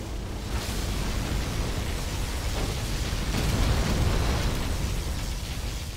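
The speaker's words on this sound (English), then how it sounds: "Particle cannon activated." A particle cannon super weapon fires in Command & Conquer Generals Zero Hour, giving a loud, sustained roaring blast of broadband noise that swells midway and holds steady for several seconds without speech.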